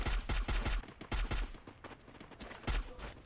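AK-47 gunfire in the mobile shooter game Free Fire, rapid bursts of punchy automatic shots in several clusters with short gaps, moderately loud over quiet game background.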